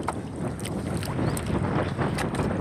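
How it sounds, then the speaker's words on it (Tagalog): Strong wind buffeting the microphone on open water while net fishing from a small boat after a typhoon, a steady roaring rumble with gusty surges and faint splashes, no talking. "ang lakas ng hangin"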